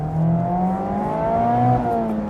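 An ND3 Mazda Miata engine revs up and down as a gear is missed, a steady four-cylinder drone rising and falling in pitch, close and fairly loud with no talking.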